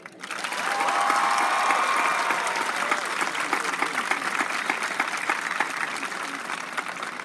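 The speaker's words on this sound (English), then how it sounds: "would you please show your appreciation with a round of applause for them" High school graduation audience breaks into sustained applause with scattered cheers, a dense wash of clapping that swells quickly and then holds steady.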